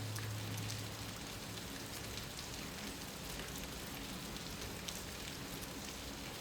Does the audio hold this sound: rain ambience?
yes